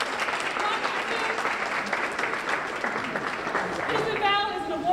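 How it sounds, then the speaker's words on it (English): Applause from a gathered audience rolls on steadily for several seconds, a moderate wash of clapping that swells slightly near the end. "And again, I need to applaud her."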